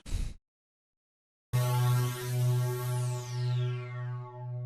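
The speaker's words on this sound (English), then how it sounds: "So you can hear it has that really nice filter movement to it" A short burst of sound, then silence, then a bright sustained polysynth chord on a Thriller preset swells in with a sweeping filter that rises and falls in waves.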